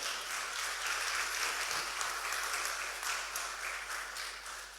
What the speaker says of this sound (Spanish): Alguien le da un aplauso al Dios que tiene un plan perfecto